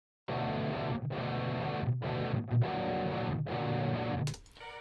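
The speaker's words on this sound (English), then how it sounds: "I'm going to use this guy, which is the electric guitars, the backing electric guitars." Backing electric guitars through an Overloud TH-U rig player chug out loud distorted chord blocks in a rhythmic pattern with short breaks, ending with a brief bright noise burst as the playing stops.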